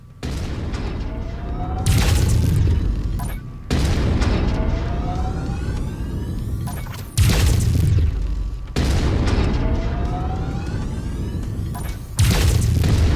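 Mech weapons fire at a cockpit in MechWarrior 5: four heavy volleys come roughly every few seconds, each a booming burst with rising electronic whines, close and loud.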